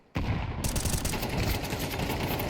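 Dense, continuous automatic gunfire from a Counter-Strike match on the Anubis map, bursting in loudly after a brief quiet start and rattling without pause as overlapping rifle shots fill the whole stretch.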